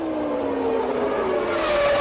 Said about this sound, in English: The pace car pulls into the pits as the race proper starts.